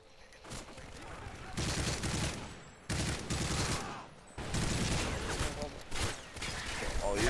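Sustained rapid gunfire in Modern Warfare 3 Spec Ops Survival, long dense volleys of automatic shots broken by brief pauses, loud and continuous.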